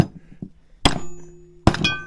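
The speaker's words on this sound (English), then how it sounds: "grab your friendly socket here and knock that bearing out" Soft hammer driving a bearing out with a socket during a brake and chain case rebuild on a vintage Polaris Colt snowmobile; two sharp metallic knocks with ringing tails, after faint lighter taps.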